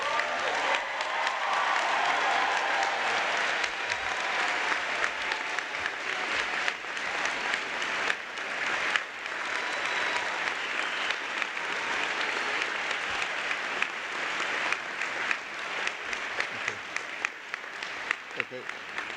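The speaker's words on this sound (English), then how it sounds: "Round of applause for the DMD class of 2019." An audience at a 2019 dental school commencement applauds the graduating DMD class, steady sustained clapping from a large crowd that fills the hall for the whole stretch.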